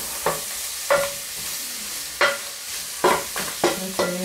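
Onions fried and stirred in a pot, a close steady sizzle broken by several spoon clanks and scrapes against the metal, with no talk.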